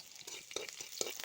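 Onions sizzle in hot oil in a home kitchen, a faint crackling fry broken by a few soft stirring scrapes.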